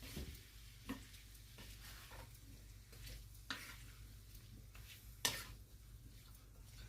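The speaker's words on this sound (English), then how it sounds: "Now, I am going to give that a stir." A spoon stirring green beans and potatoes in a pot, with quiet steady scraping and a faint sizzle, broken by a few brief clinks, fairly soft throughout.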